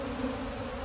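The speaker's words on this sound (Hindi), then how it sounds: "जैसे ही मधुमक्खियाँ अंदर जाने की कोशिश करती हैं" Honey bees crowding at a hive entrance fitted with a pollen trap, squeezing through its holes; a steady, close buzzing drone with a low hum throughout.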